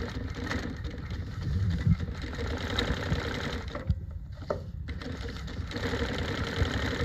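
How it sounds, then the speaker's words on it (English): A New-Tech GC-0303 sewing machine stitches steadily in a continuous close, loud whirring run, with a few brief pauses and changes in pace. "I'm gonna sew, I'm gonna go to the side."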